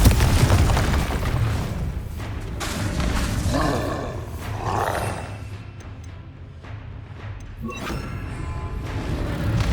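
Confringo fire-blast spells in Hogwarts Legacy gameplay, heavy booming explosions and roaring bursts rolling one after another, loud and close, with softer rumbling tails between impacts.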